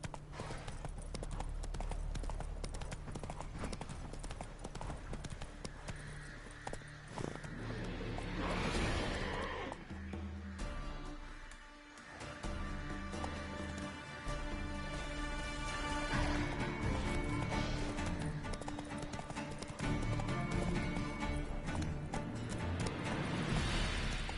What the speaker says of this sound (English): Giddy up. Run, Roach.